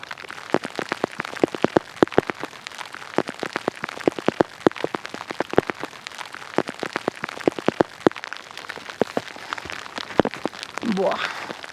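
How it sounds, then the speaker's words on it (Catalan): Hail falling high in the mountains of Ladakh, near 6,000 metres, dense irregular ticks and taps of pellets striking close by throughout, with a voice briefly sounding near the end. "ara es posa a nevar, a caure pedra a sobre. És calamarsa."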